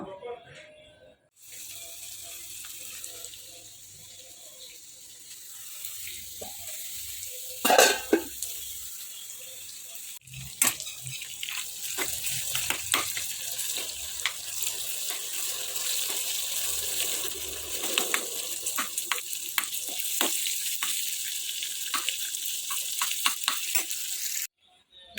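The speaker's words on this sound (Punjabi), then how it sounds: "ਲਓ ਜੀ ਤੜਕਾ ਆਪਾਂ ਲਾਤਾ" Steady sizzling hiss of a spice tempering frying in hot oil in a pan, with occasional clinks and stirring scrapes over several seconds.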